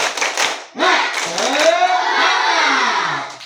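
Children at a school event clap rhythmically and shout a loud spirit chant together, close and energetic, with bursts of claps followed by a sustained group shout.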